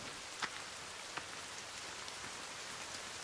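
Steady, soft rain hisses in a video game, a faint, even wash of falling drops with a couple of slightly sharper patters and no talking.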